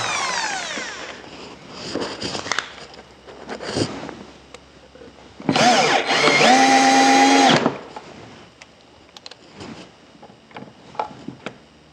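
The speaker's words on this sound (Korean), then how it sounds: "드릴로 구멍을 뚫고 상판을 고정하시면 됩니다" A power drill bores a hole in a wooden drawer with one loud whining burst of about two seconds, set among softer scraping and knocking handling noises of the wood close by.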